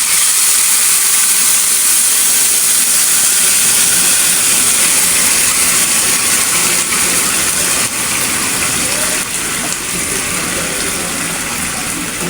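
Tuna drops into hot garlic oil in a pan and sizzles loudly and steadily, a dense continuous hiss lasting throughout.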